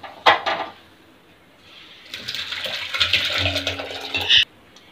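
Water pours steadily into a container of rasam for a couple of seconds after a short clatter, close and fairly loud, ending with a knock.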